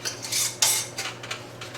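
Metal rings set onto hot glass canning jars of lemon jelly, a couple of close bright metallic clinks and scrapes over a low steady hum.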